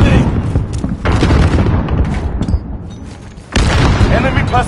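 A heavy boom from a grenade blast in Modern Warfare rolls out amid continuous battle noise, followed by a second loud burst near the end; game voices speak under the din.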